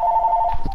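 A telephone rings with a steady electronic tone that cuts off partway, followed by a few soft low thumps nearby.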